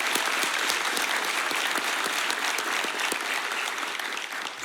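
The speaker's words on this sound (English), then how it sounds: "Can we give the class a big round of applause?" Sustained applause from a graduation ceremony audience honoring an academy class, a dense, steady wash of many hands clapping that stays loud for several seconds and tapers slightly at the end, with no talk over it.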